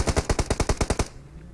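Rapid automatic gunfire in PUBG Mobile, about nine evenly spaced, loud shots fired in one quick burst that cuts off abruptly, leaving a low hum.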